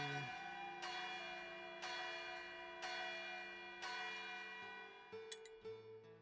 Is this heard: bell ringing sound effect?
yes